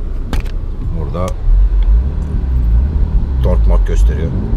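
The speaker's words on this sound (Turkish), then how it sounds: "Egzozun sesi hoparlörlerden geliyor galiba." Peugeot 308 GTI and 208 GTI engine and exhaust sound played through the car's speakers: a low, steady rumbling drone that swells midway, with sharp clicks and someone talking over it.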